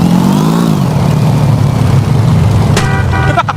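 A car engine in the video game GTA holds a steady mid-pitched drone that rises slightly early on, then a sharp mechanical burst of revving near the end, loud and close with no talking over it.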